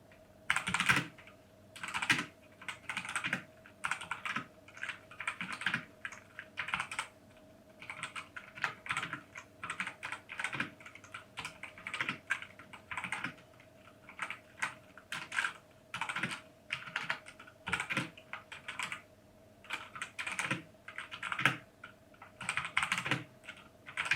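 Rapid clacky keystrokes on a Machenike K500-B94 mechanical gaming keyboard (90% layout), continuous bursts of typing with brief pauses, close and crisp, no voices.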